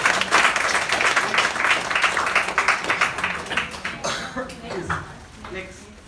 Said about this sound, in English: Please clap your hand for yourself.